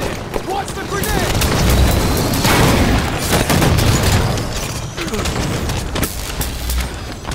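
In a Halo Husky Raid match, a grenade goes off with a heavy boom amid chaotic gunfire and game effects, loud and continuous, with voices in the background.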